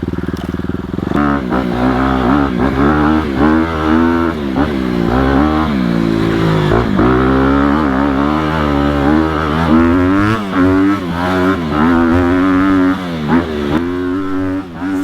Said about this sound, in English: This bike sounds so good. When you get it in a high RPM, it pulls really great